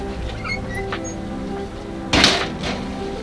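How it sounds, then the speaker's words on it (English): A pink RV screen door is pulled out in a doorway, giving one sharp sliding clatter partway through, with faint rustling and background hum around it. "There's a screen door, so you can choose to keep it open or closed."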